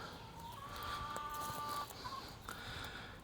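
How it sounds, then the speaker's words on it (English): Backyard chickens on a homestead cluck and murmur at a distance, a faint drawn-out call rising above a steady hiss of outdoor ambience. "You can hear my chickens in the background."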